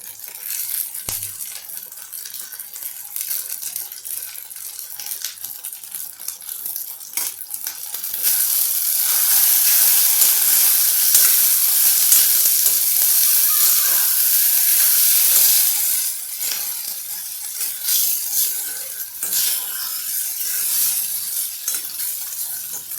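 Rice is stirred and fried in a pan for vegetable fried rice, giving a steady close sizzle with scraping stirs that swells into a louder hiss midway before settling back.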